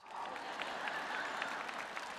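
Church audience applauding at a Sunday service, a dense, steady wash of clapping from many hands at moderate distance, slightly faint, with no break.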